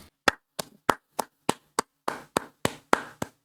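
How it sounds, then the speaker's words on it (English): One person claps alone about eleven times in a slightly uneven rhythm, each clap sharp, close and isolated against near silence, at the end of an online group presentation. "Am I the only one clapping?"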